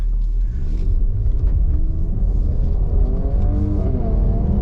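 A Mercedes-AMG GLC 43 Coupe engine revs while driving, a loud, deep, continuous rumble with rising and falling engine pitch heard from inside the car.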